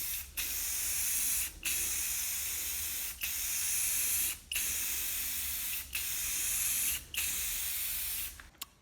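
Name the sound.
spray painting a truck bumper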